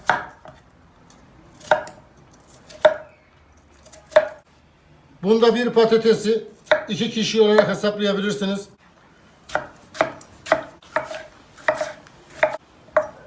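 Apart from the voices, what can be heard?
cutting potatoes into wedges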